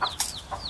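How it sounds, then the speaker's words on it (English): A rooster clucking in short, close bursts, a few quick calls within a second. "You old rooster? You hear me?"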